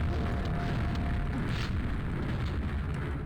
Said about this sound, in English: The ogre bounces grenades, tries to kill me.